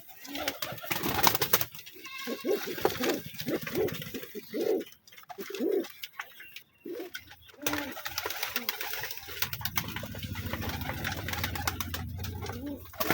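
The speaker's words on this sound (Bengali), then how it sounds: "এই যে আমার কবুতরগুলো সব খেতে চলে আসছে" Pigeons coo in soft repeated phrases near a rooftop feeding spot as they gather to eat, with rustling and low handling noise, and a rumbling background in the final seconds.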